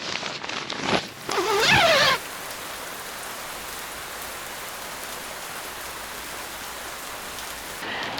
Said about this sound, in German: Tag 2 in Norwegen und es regnet natürlich.